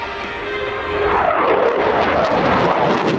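An Italian Air Force Eurofighter Typhoon flies a display at an airshow at RIAT 2025. Its jet engine gives a loud, sustained roar that swells as the aircraft passes, with no voices heard.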